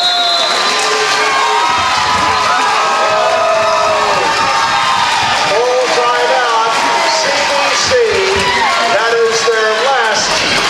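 Women's basketball crowd at A.R. Reddin Fieldhouse cheering wildly and continuously, a dense roar of shouts and whoops with a commentator talking over it throughout.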